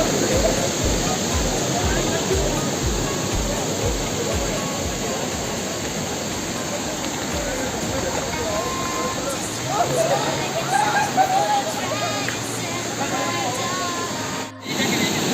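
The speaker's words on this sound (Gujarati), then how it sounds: "જ્યાં પાણી આવે છે, પાણીનો ધોધ છે" A large waterfall at Paniyari pours with a steady, loud roar of rushing water throughout, while voices talk over it in the foreground.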